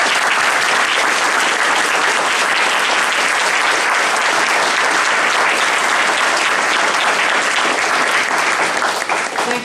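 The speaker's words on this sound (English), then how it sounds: "Please give them a warm round of applause." A full audience gives a warm round of applause for town council candidates at a candidates forum in Mount Pleasant, loud and dense clapping that holds steady for nearly ten seconds with no talk over it.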